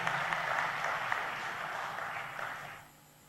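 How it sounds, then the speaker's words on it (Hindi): A hall audience claps together at a Madhya Pradesh government event for the virtual inauguration of 57,000 water structures, a steady wash of applause that fades out after about three seconds. "एक बार फिर तालियां बजा के अभिनंदन कीजिए।"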